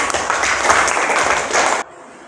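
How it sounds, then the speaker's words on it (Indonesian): Classmates applaud a student group in a classroom, a short burst of loud, dense clapping that stops abruptly, leaving near silence. "Kita kasih tepuk tangan untuk kelompok berapa?"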